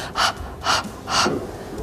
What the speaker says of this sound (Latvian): Mierīgi elpojam ar mutīti. Kā sunīts.